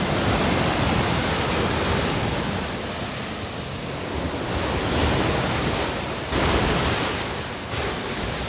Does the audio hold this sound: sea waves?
yes